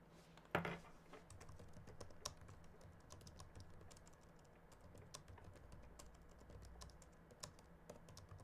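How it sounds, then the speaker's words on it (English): Close, fairly quiet typing on a computer keyboard at a live-streaming desk: rapid irregular clicks and taps run throughout, with one louder thump near the start. "I'm typing away because I'm trying to sort stuff out for the next stream."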